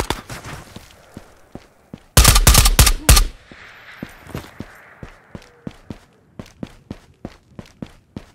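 Gunfire in the VR shooter Ghosts of Tabor: a loud, tight burst of automatic shots, then a long run of sharp, evenly spaced single shots or footstep-like impacts that drift nearer and farther, with no talking.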